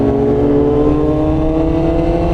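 A sport motorcycle, one of a Fireblade, S1000RR or CB650R on a night group ride, revs steadily at high RPM with a loud, continuous, close engine howl.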